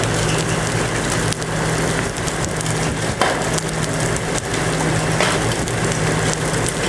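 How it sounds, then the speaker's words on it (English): Baseball-sized hail pounds an awning during a Kansas storm, making a dense, loud, continuous roar broken by sharper individual cracks of large stones striking close by. "These are humongous hail."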